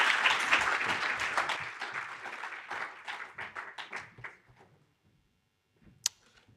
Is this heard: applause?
yes